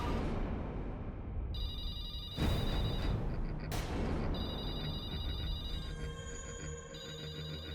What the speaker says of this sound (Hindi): ये तो उस आत्मा का ही फोन लगता